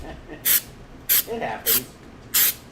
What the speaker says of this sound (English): Remember, spray that lightly and then you have to let that dry.